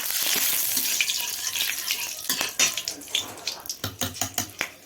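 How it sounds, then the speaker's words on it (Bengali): Whole garam masala, bay leaves and dried chillies hit hot mustard oil in a pan, giving a loud hissing sizzle that settles into sharp, rhythmic spattering pops. "তেল গরম হয়ে গেছে, দিয়ে দিচ্ছি গোটা গরম মশলা, দুটো তেজপাতা, শুকনো লঙ্কা"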